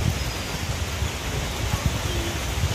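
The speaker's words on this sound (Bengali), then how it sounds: "বাতাসের সাথে বৃষ্টি হচ্ছে" Wind-driven rain falling around a rural home, with gusts rustling banana leaves and trees; a steady, broad wash of rain and wind noise with low rumbling buffets, continuous and fairly close.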